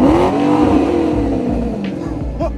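A Maserati engine from a film scene revs hard, with rising and falling harmonic tones and a loud, close, continuous roar that eases slightly toward the end.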